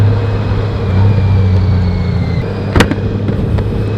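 A motorcycle engine drones steadily while riding slowly through neighborhood streets at roughly 15 to 25 miles an hour, a low continuous hum with wind rush, broken by one short sharp click near the end.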